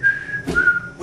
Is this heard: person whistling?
yes